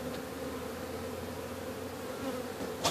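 Honeybees buzz during a hive cut-out in Lake Wales, Florida, a dense, steady drone of many bees close by, constant throughout with no talk.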